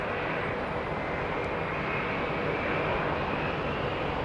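A Qatar Airways Airbus A350 passing over London Heathrow, its engines producing a loud, steady broadband roar that holds constant throughout without a clear rise or fade.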